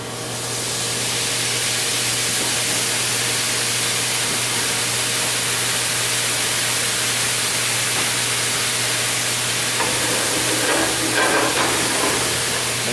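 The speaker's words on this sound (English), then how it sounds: "I'm going to deglaze this with that nice red wine" Red wine poured into a hot pan of seared duck breast, giving a loud, steady sizzling hiss that holds evenly throughout, with faint clatter near the end.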